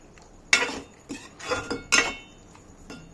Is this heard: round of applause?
no